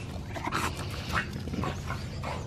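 A one-year-old lilac female American Bully dog pants steadily and close, with quick, breathy huffs in a continuous rhythm.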